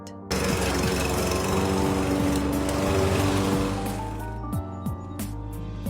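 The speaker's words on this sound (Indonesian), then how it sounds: "Hingga akhirnya Tristan datang dan membantu menyalakan mesin rumput" A lawn mower engine catches abruptly and settles into a loud, buzzing idle with a strong steady hum that sags slightly toward the end. No voices.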